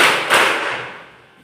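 A single loud burst of many hands clapping together in a classroom rhythm exercise, sharp onset followed by a short decaying tail, close and with no voices over it.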